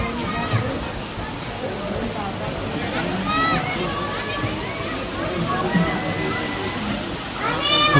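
Water flowing steadily in a Japanese garden at Ramoji Film City, a continuous wash of running water with voices and crowd chatter over it throughout.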